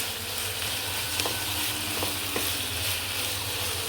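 Ginger paste and vegetables frying in a pan for a healthy diet dish, producing a dense, even sizzle with a few light scraping stirs and no voices.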